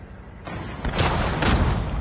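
Gunfire rings out in the mobile shooter Call of Duty Mobile, a couple of loud booming blasts close together over a rumbling battlefield background.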